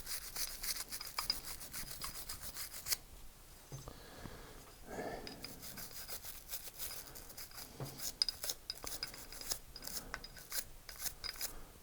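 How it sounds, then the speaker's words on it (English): Close, dry scrubbing and rasping of a brush against dirty Ruger Security 380 pistol parts. It comes in rapid repeated bursts with a few short pauses, and no talk. "So we will get in there and scrub that some more."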